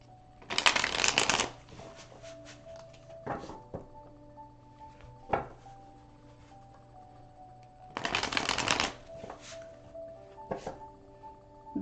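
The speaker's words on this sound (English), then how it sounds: "Give these guys a good shuffle." Oracle of the Nile oracle cards shuffled in two loud, crisp bursts of riffling at the start and again later, with soft handling taps and a faint steady background tone in between.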